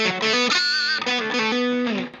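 An electric guitar played through a Boss DS-1 distortion pedal set to a moderate gain level, a few sustained, harmonically rich distorted chords ringing out loudly and alone.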